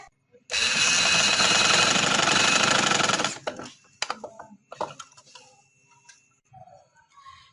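A sewing machine stitches a women's casual dress sleeve in a dense, loud burst of about three seconds, then stops; handling clicks and soft rustles follow.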